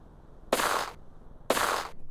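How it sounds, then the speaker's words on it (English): Two gunshots from the PC game The Dagger of Amon Ra with MT-32 sound fire about a second apart, each a loud, sharp burst with a short decay over a quiet background. "Several gunshots ring out close by."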